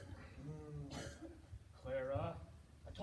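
A girl coughs and clears her throat twice in a quiet indoor setting, two short raspy bursts separated by a pause.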